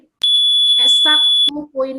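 A shrill electronic tone of an alarm signalling home time sounds loud and steady for over a second, then stops as people begin talking.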